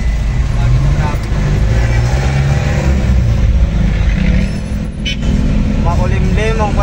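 Road traffic on an overcast day, a continuous loud rumble of cars, buses and trucks with engines revving nearby, steady throughout with a person's voice speaking briefly over it.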